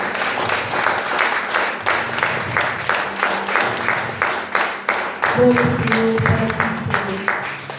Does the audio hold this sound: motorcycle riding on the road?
no